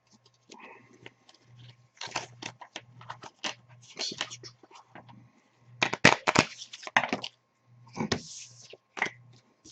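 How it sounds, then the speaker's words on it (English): Stay Away board game cards, including the Thing card, shuffled by hand in irregular riffling bursts of papery flicks and rustles, moderately loud and close, with a faint steady hum underneath. "give it a good shuffle"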